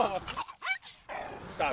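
A dog gives a few close yips and whimpering barks amid people talking nearby, the barks short and sharp between stretches of speech.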